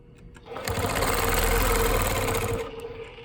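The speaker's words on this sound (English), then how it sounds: "Remembering to guide the machine's weight towards the ruler, and at the same time I'm putting pressure wherever I'm sewing." A longarm quilting machine stitching along a ruler during continuous diagonal crosshatching, a loud rapid mechanical whir that starts abruptly, holds steady for about two seconds, then stops, with no talking.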